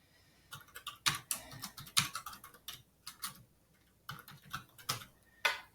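Typing on a computer keyboard, quiet, close-up clicks in irregular bursts and short pauses, alone with no talk.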